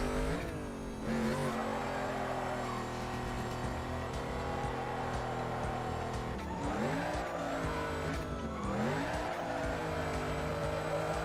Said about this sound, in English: I get to see a Camaro attempt to drift.